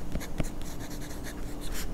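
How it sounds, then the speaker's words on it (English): A gold-nib fountain pen writes on paper, a close, steady scratching of the nib with a couple of brief taps early on. "Let me write 14K so that it indicates the gold nib."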